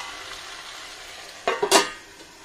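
Brinjal and potato masala gravy is stirred in a pan, with faint simmering under two short, distinct scraping clacks of the spoon against the pan.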